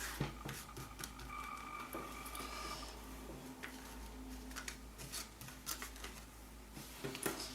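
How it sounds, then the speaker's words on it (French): Oracle cards are spread across a table, making faint, soft sliding rustles with scattered light ticks and taps, quiet and close, with no voice over them. "Hop, j'étale les cartes sur le côté."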